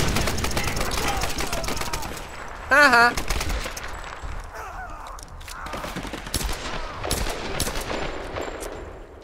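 Gunfire in the Tomb Raider video game, with rapid bursts of sharp shots and scattered single cracks, plus a brief high-pitched cry, while a player talks and laughs over the action.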